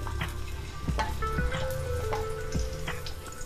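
About ten garlic cloves frying in oil in a pan, a soft, steady sizzle broken by scattered small pops and crackles.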